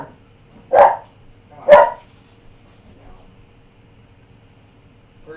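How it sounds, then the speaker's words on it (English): Indoors, a dog barks at the mail carrier, giving two loud close barks about a second apart, followed by quiet background hum. "you bark every day for no reason"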